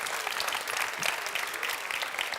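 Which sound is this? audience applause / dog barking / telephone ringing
audience applause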